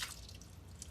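Water drips and trickles out of a block of tofu being drained in a home kitchen, a soft close wet patter with a couple of brighter splashy moments, no voices.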